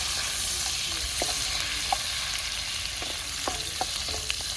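Butter sizzles steadily in a pan with cumin, garlic and ginger while being stirred for restaurant-style paneer butter masala, a dense frying hiss broken by soft scraping clicks from the spoon.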